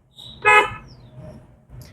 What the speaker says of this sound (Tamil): ஒரு முறை ஹார்ன் அடிச்சிடுங்க